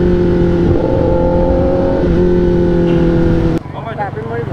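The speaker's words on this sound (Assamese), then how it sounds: "বাইক আহিছে দেই বাইক আহিছে" A motorcycle on a road during an Independence Day group ride, a steady loud engine drone with rising and falling pitch that cuts off abruptly, followed by quieter road noise and voices.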